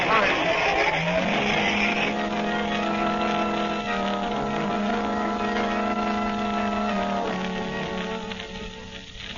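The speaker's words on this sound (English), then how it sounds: "Away in his fast motor car sped the Blue Beetle" A fast motor car speeds away as a radio drama effect, a steady loud engine drone with rising harmonic whine that holds throughout, tapering slightly toward the end.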